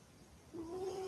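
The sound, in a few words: cat making little squeaky, purring sounds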